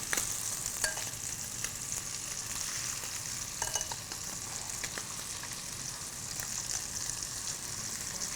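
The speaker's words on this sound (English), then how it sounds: "But first we're going to sear them" Scallops sear in a hot pan with a steady, dense sizzle and crackle that holds level throughout, with a few sharper pops scattered over the frying hiss and no voices.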